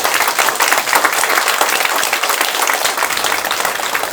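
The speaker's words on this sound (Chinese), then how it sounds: "我们现在就以最热烈的掌声欢迎我们的董事长" Sustained, dense applause from a lecture-hall audience welcoming the company chairman onstage at an annual celebrity lecture event; loud, steady clapping throughout with no voices over it.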